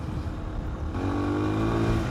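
A Suzuki DR 250R motorcycle engine idling low, then rising into a steadier, louder drone about halfway through, heard close up with no voices.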